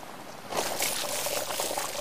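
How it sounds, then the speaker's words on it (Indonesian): Water splashes onto slime in an animated cartoon: after a quiet hiss, a loud, steady rush of pouring, splashing liquid starts abruptly and continues to the end, close and without speech. "Mari siram air."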